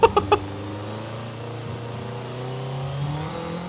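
A Toyota MR2 engine in Forza Horizon 5 drones in a steady mid-pitched tone that slowly climbs as the car accelerates, after three quick clicks at the start.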